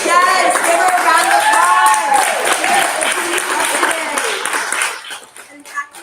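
Loud audience applause and cheering at a women-in-construction and skilled-trades event, a full crowd clapping with whoops and a voice speaking over it before the clapping thins out and fades near the end.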